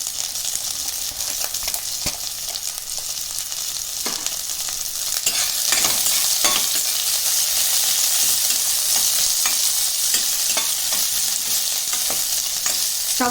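Onions and green chillies sizzle in hot oil in a pan while being stirred for Tamil tomato rice, a steady loud frying hiss broken by scraping stirs.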